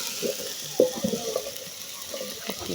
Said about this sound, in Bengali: এই যে আমি একটু তরমুজ ভাজিটা করে নিচ্ছি বন্ধুরা